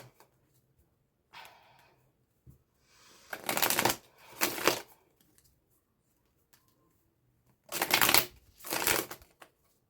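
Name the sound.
shuffling tarot cards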